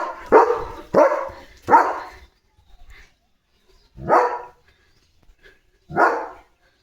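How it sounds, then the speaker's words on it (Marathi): A German Shepherd barks in loud, close bursts: three quick barks in a row, a pause, then two more single barks spaced apart, with no voices over them. "भूकतोय ना."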